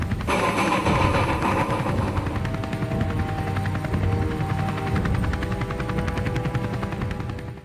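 A loud, continuous helicopter roar with rapid rotor chop fills the scene, steady and close throughout.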